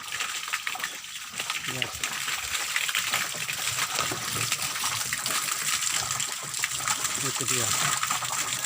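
Water surges strongly out of a pipe driven by an Izumi OL07-09 pump, a loud, continuous rushing gush close by, while a person speaks briefly over it.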